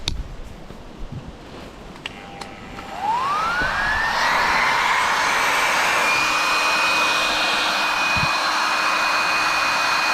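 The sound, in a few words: battery powered pump inflating an air mattress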